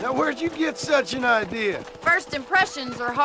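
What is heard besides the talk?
No everyday noise stands out behind the speech.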